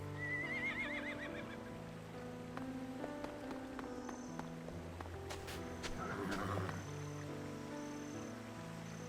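Horses neigh and whinny in the video game Octopath Traveler 2, a clear whinny near the start set over continuous game music and ambient rain-like texture, with further faint equine calls in the mix.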